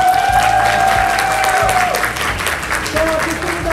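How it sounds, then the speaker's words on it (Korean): Wedding guests clap steadily under a loud hall mix, with spoken voices and a low musical drone running through and a sustained tone fading out midway. "그대로 박수 쳐주세요."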